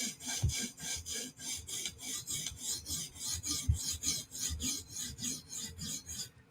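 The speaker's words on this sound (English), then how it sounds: "I'll just do some vertical strokes on it to clean it up." A knife heel drawn in repeated vertical strokes across a sharpening stone, a steady raspy scraping with roughly two strokes per second, close and continuous with no talk.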